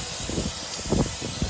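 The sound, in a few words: spraying PB Blaster penetrating oil on a wheel bearing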